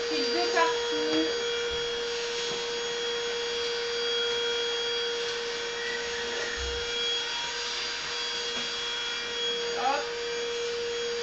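A handheld block vacuum cleaner hums steadily with a constant whine throughout, working close by indoors while someone speaks briefly over it.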